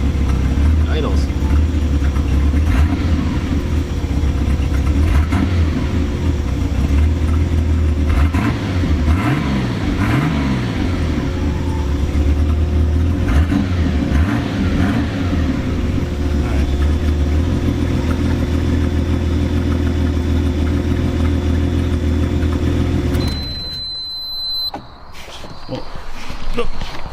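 Datsun 280Z S30 engine running close by, a loud steady idle with several revs rising and falling, then cutting off near the end.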